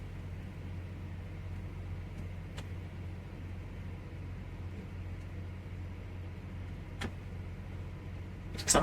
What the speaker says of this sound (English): It sounds like a truck.